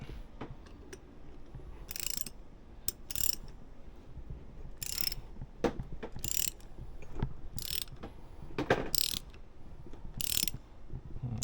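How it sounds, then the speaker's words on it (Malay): Ratchet wrench working a very tight screw on a 265 mm brake disc, heard as repeated bursts of clicking spread across the clip with short pauses between strokes, close and fairly loud over a low background. "Kalau macam tu dah tak boleh, kita pakai ratchet."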